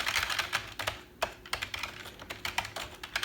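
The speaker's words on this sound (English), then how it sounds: "crappy feeling keyboard, all plasticky, light." Rapid typing on a cheap, light, plasticky computer keyboard: a steady stream of close, clacky keystrokes with no talking.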